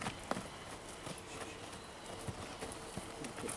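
A horse walks with a steady clip-clop of hooves, sparse thuds spaced evenly under a constant noisy background, faint and somewhat distant.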